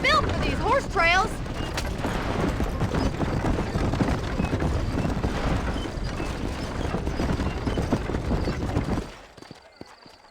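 A horse-drawn wagon rolls along a trail in Red Dead Redemption, with steady hoof clip-clops and creaking under voices talking, before the sound drops away near the end.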